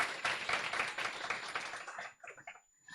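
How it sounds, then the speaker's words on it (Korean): An audience claps at a seminar talk, a dense burst of many hands for about two seconds that thins to a few scattered claps and fades out. "네, 박수 한번 쳐주세요."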